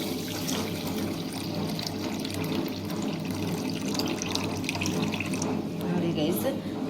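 Water pours steadily into a bowl, a continuous splashing gush that runs unbroken from start to finish.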